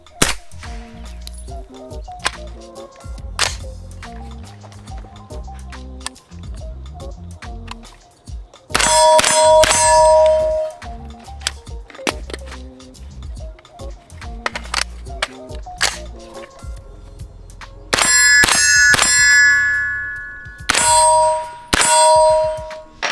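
A kid's aluminum bat strikes a Primary Arms SLx 1x MicroPrism optic repeatedly, sharp metallic clangs and ringing dings with some bursts of quick hits, each ring hanging briefly.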